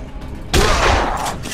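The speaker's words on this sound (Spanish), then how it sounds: "Te disparo, yo te disparo," Shotgun fire in the Dead Island video game, with a sudden loud blast bursting in midway over background game noise and ringing out briefly.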